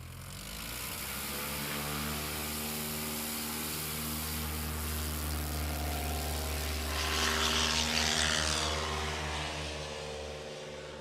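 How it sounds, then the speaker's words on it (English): A STOL airplane takes off during short takeoff and landing practice in the Appalachian Mountains: a steady, loud propeller-engine drone that swells slightly toward the end, heard alone without talk. "That's a 127-foot takeoff for him there."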